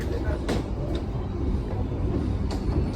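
Logawa passenger train (KA 248, Surabaya Gubeng to Banyuwangi) rolling on rails near Sidoarjo, a steady loud low rumble heard from inside with a few sharp metallic clicks, with no talk.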